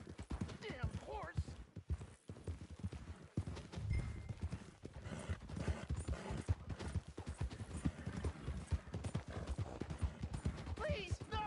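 Horse hooves clip-clop steadily in Red Dead Redemption 2, a close, quick rhythmic beat running throughout with occasional snorts and game voices talking over it.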